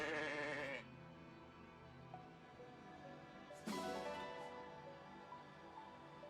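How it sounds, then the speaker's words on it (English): Two sheep bleats in the video game Fire Emblem Engage, one at the start and another a few seconds later, over quiet background music, faint and somewhat distant. "It's a sheep."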